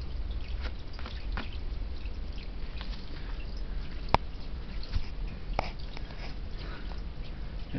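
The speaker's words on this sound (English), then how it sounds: "It actually splashes quite a bit," Water from a sump pump splashes and drips in a continuous low wash, with scattered small drips and one sharp tick standing out over the steady hiss.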